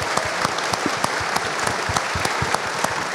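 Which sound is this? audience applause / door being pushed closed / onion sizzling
audience applause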